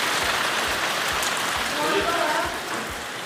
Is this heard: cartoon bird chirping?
no